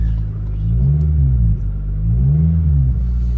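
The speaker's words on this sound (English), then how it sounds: "Let's rev it up real quick and see." A car engine revved twice at a check-engine-light fault check, each rev swelling then settling back toward idle, close and steady with no talking.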